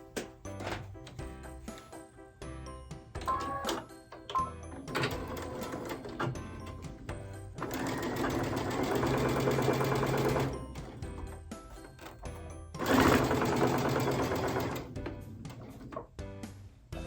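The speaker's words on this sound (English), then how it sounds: "we're going to sew down 2 sides of it and leave the top of it open" A sewing machine stitches down the sides of a folded fabric phone holder in several bursts of rapid mechanical chatter, separated by quieter clicks and handling sounds.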